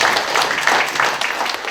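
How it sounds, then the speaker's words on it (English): Audience applause following an invited plenary lecture at an academic conference, a steady wash of clapping from a crowd that holds evenly for under two seconds. "let's have a great applause for Elizabeth"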